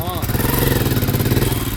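A motorbike engine runs at a steady idle with a rhythmic mid-low throb, fairly close, while people talk over it.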